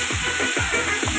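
Potatoes frying in hot oil at an outdoor New Year picnic, a steady broadband sizzle with a few soft stirring thumps, close and continuous without speech.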